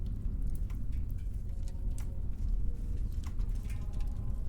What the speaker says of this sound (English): Yeah, now we just hear like a fireplace.